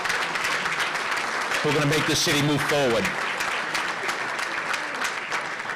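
A large crowd at an annual St. Patrick's Day luncheon in Boston applauds the young people, with loud, steady clapping throughout as a speaker keeps talking over it.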